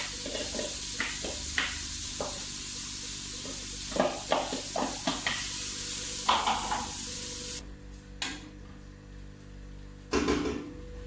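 A blended mixture of onion, garlic, tomato, pepper and chili is added to a pot of hot fat for a peanut butter mafé, giving a loud sizzle with scraping stirs that drops off to a quieter simmer midway.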